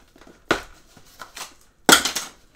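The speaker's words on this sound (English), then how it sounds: "Oops, that was the scissors falling down." A pair of scissors falls during a box opening, giving two sharp clattering impacts about a second and a half apart with small rattles in between, close and fairly loud.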